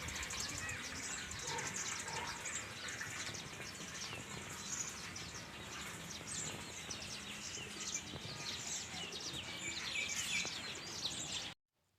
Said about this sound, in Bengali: এই দেখো পাখির ডাকগুলো কত সুন্দর